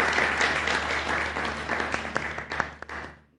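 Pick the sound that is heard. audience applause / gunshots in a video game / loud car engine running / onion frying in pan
audience applause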